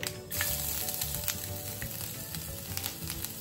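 A tempering of urad dal and mustard seeds fries in hot oil, a loud, busy crackle and sizzle with dense popping throughout and nobody talking.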